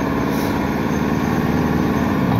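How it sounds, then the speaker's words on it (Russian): A snow-clearing tractor drives and pushes snow in a steady, loud, continuous low engine drone that carries on without a break and with no talk over it. "Мы вам сейчас тоже еще заснимем, как этот трактор красавчик едет, снег чистит."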